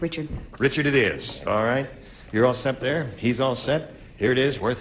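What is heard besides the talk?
No distinct noise like a dog, phone or traffic.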